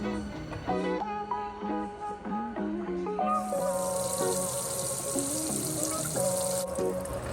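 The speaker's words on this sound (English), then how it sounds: "This is just regular old tap water. It's not hot, it's not cold, it's somewhere in between." Room-temperature tap water runs and pours steadily while tomato seeds are swished around in it by hand, with a brighter gush of flow partway through; some musical tones sit underneath.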